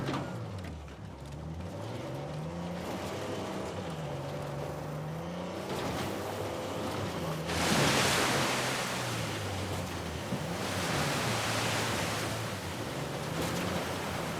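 Steady roaring rush of a waterfall in the Uncharted 4 Kings Bay area, constant broadband wash with surging swells and a low droning tone underneath, no talk.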